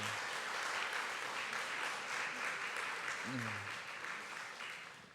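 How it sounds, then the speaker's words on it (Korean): A church congregation applauds in celebration of an upcoming wedding, a dense, steady round of clapping that fades slightly toward the end, with a voice speaking briefly over it. "축하의 박수"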